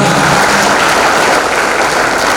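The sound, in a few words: applause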